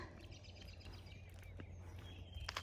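A tufted titmouse calls faintly a few times, whistled notes over a low steady outdoor hum, with a brighter chirp near the end.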